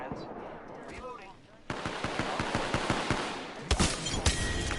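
Rapid automatic gunfire from an Apex Legends firefight, starting after a short lull and continuing as a dense stream of close, loud shots with a few heavier bursts near the end.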